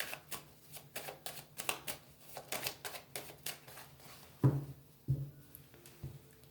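Tarot deck being cut and shuffled, a quick run of crisp riffling card flicks close by, followed by a few softer taps as the cards settle.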